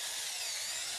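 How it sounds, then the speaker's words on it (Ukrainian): A power drill bores a hole into a birch trunk in a spring forest in Latvia. The whirring is loud, steady and unbroken across the whole short moment, with no talk over it. "Ці приємні весняні наспіви перериває шум дриля."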